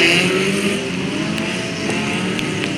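Race cars roar past on the Bovingdon raceway, a loud, continuous engine drone with passing whooshes, close and steady throughout.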